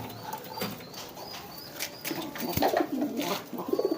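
A newly paired couple of domestic pigeons, the female very young, coo softly with a few wing flaps, the low murmurs growing more frequent toward the end against a light background hiss.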